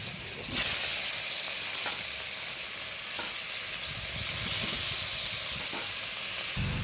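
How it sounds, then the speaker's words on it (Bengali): Figs and potatoes frying in oil in a wok, a loud, continuous sizzle and hiss with occasional stirring scrapes, close up and steady throughout. "ডুমুর আর আলু একটু ভালো করে ভেজে নেবো তেলেতে"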